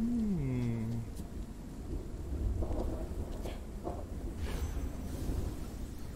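Steady rain and distant rolling thunder in the video game After Us, a continuous wash of downpour with soft low rumbles swelling and receding, and a brief whooshing tone at the start, no voices.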